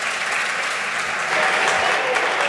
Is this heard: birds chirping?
no